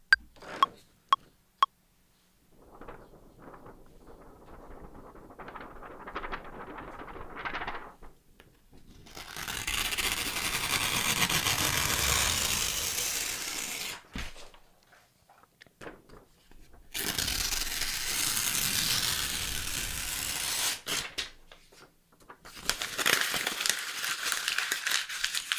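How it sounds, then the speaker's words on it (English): Sheets of paper torn and crumpled close to a RØDE microphone, long sustained bursts of crinkling and ripping separated by short pauses, loud and near with no talking. "I'm going to tear this paper up and create some kind of textural loop"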